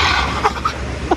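A person coughing once or twice at close range, roughly and briefly, outdoors beside a river over steady background noise during a meal of chicken tinola soup.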